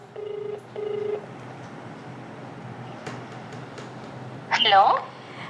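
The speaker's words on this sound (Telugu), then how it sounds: "కాల్ అయితే రింగ్ అవుతుంది, చూద్దాం" Two ringback tones sound over a phone line, one after another, then a pause of line hiss before a voice answers.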